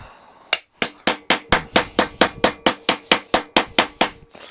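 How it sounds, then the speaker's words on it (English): A mallet strikes metal being shaped into curves for a Freddy Krueger glove build, roughly fifteen loud, evenly spaced hammer blows ringing close by with no speech. "Basically, different mallets, different curves. I'm probably gonna switch to a bigger one."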